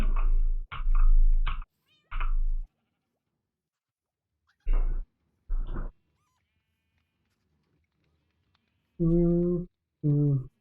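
A cat in the Minecraft video game meows repeatedly, several loud close calls in bursts with pauses between, the last few longer and more drawn out.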